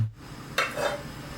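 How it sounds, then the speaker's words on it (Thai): A metal wok clanks once, then oil is poured in to stir-fry pork with red curry paste and pickled bamboo shoots. A soft pour and sizzle follow, with no talking. "เดี๋ยวเรานำกระทะ แล้วก็ใส่น้ำมันลงไปได้เลยนะครับผม"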